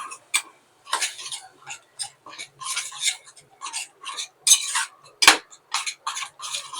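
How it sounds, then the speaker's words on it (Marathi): A utensil stirs yogurt into masoor pulao in a pan, making a rhythmic series of short scraping and clinking strokes close to the listener, separated by brief pauses, with one sharper knock. "दही ऍड केला, त्याला प्रॉपर मिक्स करून घ्यायचं."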